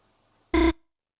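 Birdly's alarm from the video game Deltarune Chapter 2 gives one short, loud electronic buzz that stops abruptly and is followed by silence.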